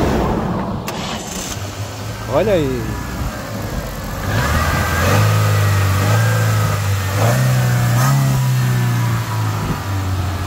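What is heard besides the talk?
Ford Escort 2000 engine starting and revving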